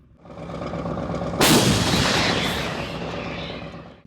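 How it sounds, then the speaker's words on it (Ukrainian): A Polish Krab self-propelled howitzer fires a single loud, sharp blast that rolls into a long booming echo and slowly fades, heard on a battlefield in Donetsk region against a steady rumbling background. "Так росіян на Донеччині нищить польська самохідна гаубиця краб"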